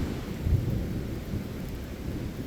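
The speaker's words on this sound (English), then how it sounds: "Keep hearing thunder there, huh?" Thunder rolls low and distant during a rainstorm in the Pecos Wilderness near Mora Flats, with a soft steady wash of rain and a deeper rumble swelling briefly early on, no talking.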